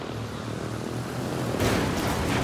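Aircraft flying in the video game Ghost Recon Wildlands, a steady droning engine hum that swells louder with a rushing burst in the last second, no talking.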